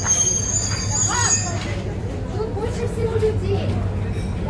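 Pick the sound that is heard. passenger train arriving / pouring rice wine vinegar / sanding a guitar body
passenger train arriving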